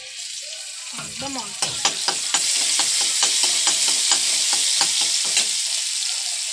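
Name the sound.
garlic paste frying in hot oil in a wok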